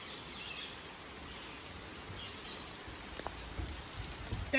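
Rain falling in a jungle safari park, a steady soft hiss of drops on foliage and surfaces, fairly distant and even, with a few faint knocks near the end.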